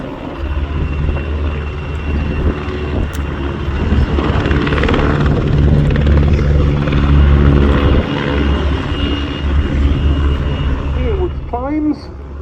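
A pair of Czech Sokol helicopters flies a carousel display at an air show, their loud, continuous rotor thump and turbine roar filling the air throughout, with a commentator talking over the engines.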